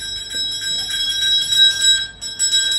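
A celebratory bell tone played from a small device after a final chemotherapy treatment rings in a steady bright sustained chime, repeating with a short break near the end, fairly close and alone.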